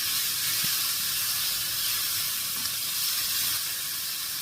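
Scallops sizzling steadily in a hot pan after a pinch of salt, a continuous bright frying hiss with a couple of faint clinks of stirring, close and without talk.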